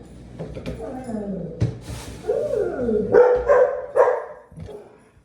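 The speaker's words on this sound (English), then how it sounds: "You hear the dogs barking in the background." Dogs bark and yip intermittently in short bursts while a home kitchen prepares crispy Parmesan chicken, with a pan preheating and a voice talking over the sharper yelps.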